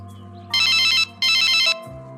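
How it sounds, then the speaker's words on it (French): Telephone rings indoors in two bright electronic bursts of roughly half a second each, loud and close, over a steady low hum and background tones. "Ton téléphone sonne."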